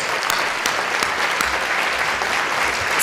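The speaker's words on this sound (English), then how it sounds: "And let's give David another round of applause for his award." Sustained applause from a conference audience at an environmental education plenary after an award, dense and even clapping from a large crowd throughout, without speech.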